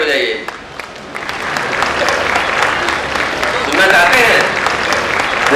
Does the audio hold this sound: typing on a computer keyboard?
no